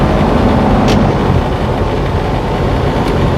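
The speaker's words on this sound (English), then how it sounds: "It's the fan shaking." Inside a moving truck cab, a fan shakes and vibrates, giving a loud, steady rumbling roar with road and engine noise, plus a couple of brief rattling bumps.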